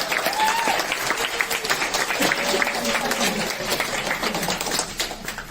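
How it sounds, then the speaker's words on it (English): Audience applause for fan dance performers, a dense, steady roar of many clapping hands with voices and cheers mixed in, sustained at full strength throughout. "Let's give them a hand of applause"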